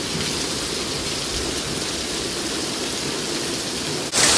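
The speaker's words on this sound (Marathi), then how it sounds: "लई बेकार पाऊस पडतोय रे" Heavy, relentless rain pours down outdoors in a dense, constant roar that fills the whole stretch, with a brief louder surge right at the end and no voices.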